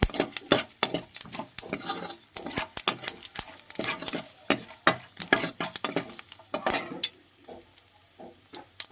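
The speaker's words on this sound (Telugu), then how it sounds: "ముందు బాగా ఫ్రై చేసుకుందాం" Irregular bursts of crackling and scraping as dal and dried red chillies fry in a pan and get stirred, close and uneven in rhythm, with no talking.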